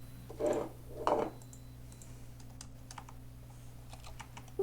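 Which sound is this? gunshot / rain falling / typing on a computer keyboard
typing on a computer keyboard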